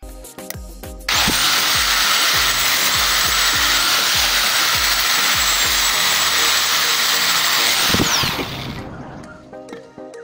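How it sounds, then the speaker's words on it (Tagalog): A boat propeller is worked over by a steady, loud abrasive power-tool whine for about seven seconds, starting and stopping abruptly, with faint tapping and rubbing before and after. "Magliha muna tayo."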